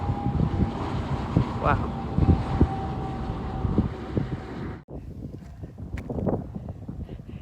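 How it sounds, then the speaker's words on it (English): Strong wind buffets the microphone beside a desert road, a loud continuous roaring rumble with gusty swells, while a person briefly exclaims over it. "it is really, really windy"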